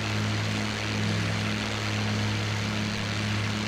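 A propeller plane's engine drones steadily and loudly in the video game IL-2 Great Battles, a continuous low throbbing hum with broad airy rush and no voices.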